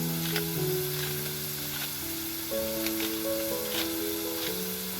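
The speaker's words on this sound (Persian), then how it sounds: "الان پیازمون سبک شدن و بهش نصف قاشق چایخوری زردچوبه میزنیم و کمی فلفل" Sliced onions frying in oil for kale gonjeshki, a Persian meatball dish, with half a teaspoon of turmeric and some black pepper added, a steady close sizzle running throughout with a few brief clinks, and no talk.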